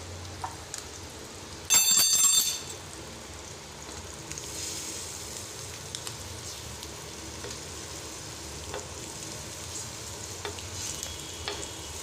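Paneer tikka pieces fry in oil with a steady, faint sizzle throughout, broken near the start by a brief, louder burst of crackle or clatter; no voices.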